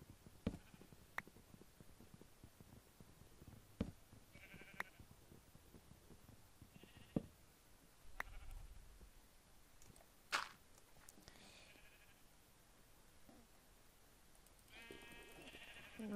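Sheep in a block-building game bleat in short, scattered cries, several spread across the stretch. They are fairly quiet against near silence, with an occasional low rumble.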